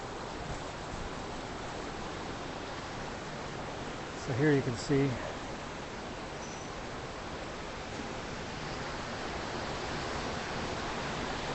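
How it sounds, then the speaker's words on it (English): Heavy typhoon rain and wind from Typhoon Haima sweeping over Victoria Harbour in Hong Kong, a dense, steady roaring hiss throughout, with someone speaking briefly near the middle. "As the rain comes pouring in."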